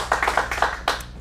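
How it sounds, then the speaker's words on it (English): An audience at a kids' acting showcase in Phoenix claps for a young girl's first performance, with a short burst of steady, fairly close applause from a small crowd. "Let's give her one more round of applause for her first performance ever."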